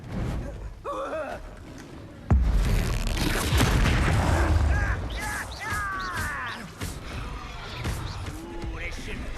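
A Bombarda spell explosion in the video game Hogwarts Legacy lands as a sudden, heavy boom with a rumbling tail that fades over a few seconds, surrounded by character voices and gasps.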